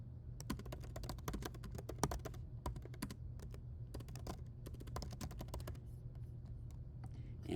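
Rapid keystrokes on a computer keyboard as a project name and description are entered, bursts of crisp clicks in quick runs with brief pauses, close and clear over a faint steady hum, thinning out toward the end.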